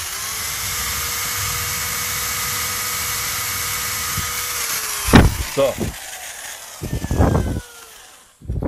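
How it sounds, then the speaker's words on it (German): A power drill bores a hole in a wall for a wall plug, a loud steady whirring that runs for about five seconds and then stops, followed by knocks and handling noises and a brief spoken word. "jetzt haben wir hier gebohrt"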